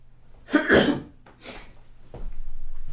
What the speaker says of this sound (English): Take the opportunity to clear my throat